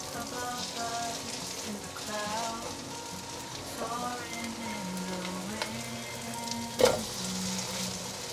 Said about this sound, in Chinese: 继续让它煎